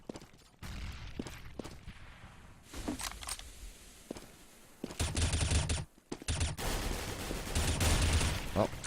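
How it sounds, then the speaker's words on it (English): Gunfire during a Counter-Strike match on de_inferno, scattered single shots early then dense bursts of rapid automatic fire, loud and close, with brief pauses between volleys. "Rogue now under heavy fire right there, but doesn't even get hit"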